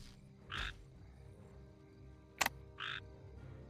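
Two short croaks from a frog unit clicked in a competitive strategy game, each a brief two-tone burst, spaced apart around a single sharp click, with no talking.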